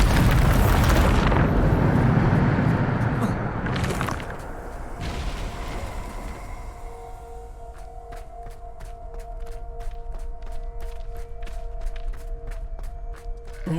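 A Bombarda spell explodes in Hogwarts Legacy with a loud, booming roar that rumbles for several seconds, followed by a second blast and then a quieter stretch of tonal hum and rapid ticking footsteps.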